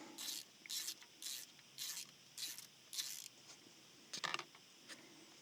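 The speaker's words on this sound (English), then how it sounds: "I'm going to use a 5/8 spark plug wrench" A 5/8 spark plug wrench ratcheting to loosen a spark plug, giving a regular series of about six short rasping clicks in even rhythm, followed by a few scattered faint clicks, close and fairly quiet.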